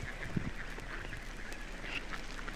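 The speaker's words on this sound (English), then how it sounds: "Listen to those big old greenheads gabble." Mallard drakes, big greenheads sitting on the water, gabble in low nasal chatter, a few short overlapping calls at moderate distance with no voices.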